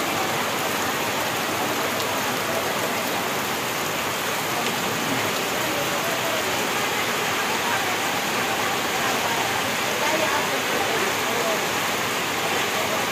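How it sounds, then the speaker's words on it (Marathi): Heavy rain pours steadily at a village crossroads in the Junnar area, a dense, unbroken hiss of downpour close by that holds the same strength throughout, with no voices over it. "पाहू शकता पावसाचा जोर वाढत चाललेला आहे"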